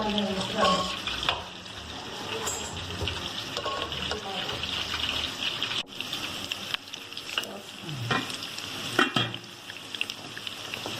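Garlic sizzles and crackles steadily in oil in a pan, browning, with occasional stirring and clattering, close up and moderately loud.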